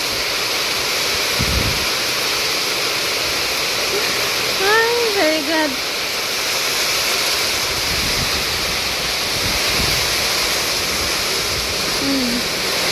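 Dense, steady rush of heavy rain drumming continuously on crops and corn plants, with wind and a voice speaking briefly over it.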